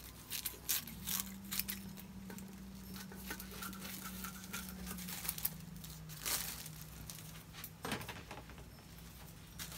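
A plastic sheet crinkles and crackles up close while being cut to size for an acrylic paint pour, with scattered rustles, taps and crumpling handling noises over a low steady hum.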